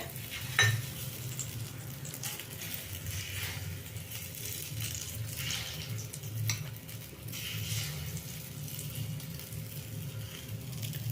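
Beaten egg mixture fries in a pan with a soft, steady sizzle, joined by occasional light scrapes and clinks of a utensil, all heard faintly and without talk.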